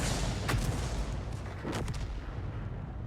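A 105 leFH18B2 artillery gun firing in a video game, two heavy booming shots about a second apart over a constant low rumble of battle noise.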